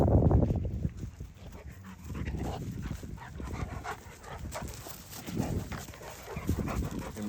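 Young Cane Corso dogs, one a nine-month-old male of about 120 pounds, play and tug together: close growls, huffs and panting come in irregular bursts of scuffling, moderately loud, with no talking.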